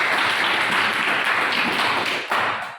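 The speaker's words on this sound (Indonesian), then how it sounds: "Kasih tepuk tangan untuk." Classroom applause for a student during an Islamic religious education lesson, dense continuous clapping from a group of pupils that stays loud throughout before trailing off at the end.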